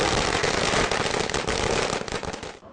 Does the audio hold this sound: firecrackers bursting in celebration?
yes